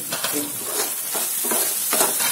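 Potatoes cooking in a pan for Maggi noodles are stirred with repeated scraping strokes over a continuous loud sizzle, close up with no talking.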